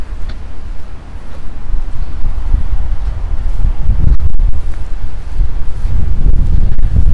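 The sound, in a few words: strong north-northeast wind blowing on an island shore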